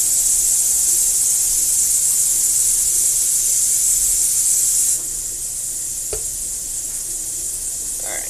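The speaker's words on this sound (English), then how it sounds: "Back to a sizzle." A continuous hiss of smothered pork chops sizzling in a pot, fairly loud and even, with a faint click partway through.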